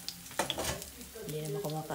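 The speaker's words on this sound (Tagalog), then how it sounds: "Tempura niluluto ko." Tempura fries in hot oil with a soft, steady sizzle and a few light stirring clinks, fairly quiet and brief, with a voice talking over it.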